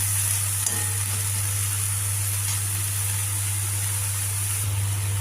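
Cowpea curry fries in a pan with boiled cowpea pieces being mixed in, making a steady, even sizzle with a few faint stirring knocks over a constant low hum, and no one talking.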